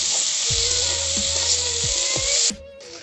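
Chopped tomatoes and green peas hit hot oil in a frying pan with a loud, bright, continuous sizzle, close up, with a few spoon knocks against the pan, and the sizzle drops away sharply near the end.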